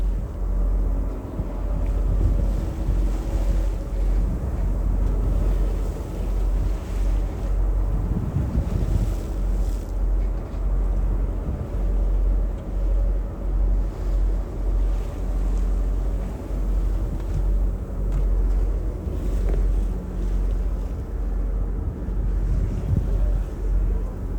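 Steady wind buffets the microphone over a low rumbling wash of sea around a rocking boat on a whale-watching trip, continuous and fairly loud with no clear voices.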